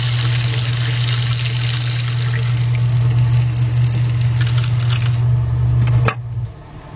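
Water tap running steadily, purging pink RV antifreeze through the water lines: a continuous loud gushing stream with a strong low hum, which cuts off abruptly near the end, leaving a faint trickle.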